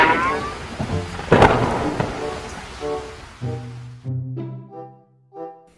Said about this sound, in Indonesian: Buset, hujan.